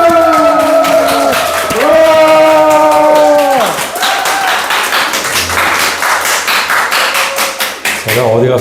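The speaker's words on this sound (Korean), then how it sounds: "박수로 맞이하시겠습니다." A church congregation gives loud applause and cheering to welcome a missionary, with sustained dense clapping and a few whoops, and sung or held tones over it at the start before the clapping carries on alone.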